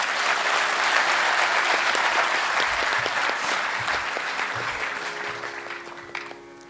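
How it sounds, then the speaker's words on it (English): An auditorium audience at a student induction event claps together in a sustained burst, loud and dense at first and gradually thinning and fading toward the end, with no speech over it. "Can we clap for it?"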